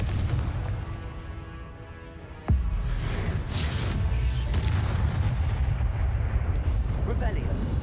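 Confringo blasting spells explode in Hogwarts Legacy: a sudden deep boom gives way to a continuous rumbling roar of battle noise, with a voice partly audible in the mix.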